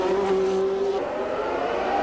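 Formula 1 race cars at the 1981 Long Beach street race roar past with a sustained high engine whine that rises and shifts pitch, loud and close, with steady crowd-like background noise.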